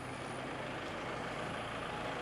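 A tractor loading dirt into a truck, a continuous heavy engine drone and rumble that stays steady and moderately loud, with a faint high whine at the start and no voices.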